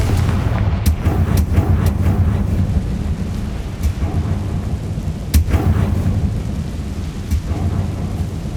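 Confringo spell blasts in a video game hit as several sharp booming cracks over a constant rumbling, stormy background, loud and close.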